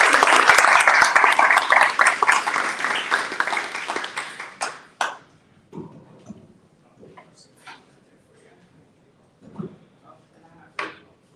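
Audience applause at an International Day of Solidarity gathering honoring a reverend: a loud burst of clapping for about four seconds that thins out, followed by a few isolated claps and faint movement in a quiet room.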